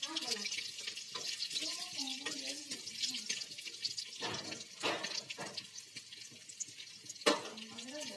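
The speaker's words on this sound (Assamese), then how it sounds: "মাছ কেইটুকুৰা ফ্ৰাই হোৱালৈকে মই পিয়াজ কেইটা কাটি ললো" Fish pieces frying in a covered pan make a soft crackling sizzle with intermittent splutters, while a voice talks over it.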